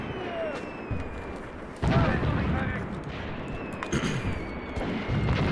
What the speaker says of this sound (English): they are testing this front with constant bombardments